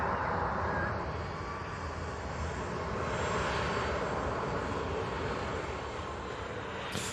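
An EasyJet airliner taxis at Manchester Airport before departing for Malaga, giving a steady, broad jet engine roar that holds evenly throughout, moderately distant with no talking.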